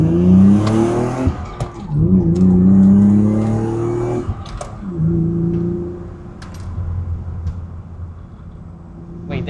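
A BMW E36 engine revs hard and climbs through the gears at full throttle, loud and close, with a brief tire chirp between shifts.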